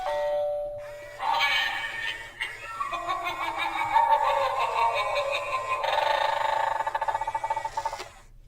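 A smart home video doorbell with camera and microphone rings out a loud, clear multi-tone chime melody lasting several seconds, heard on its own without talk.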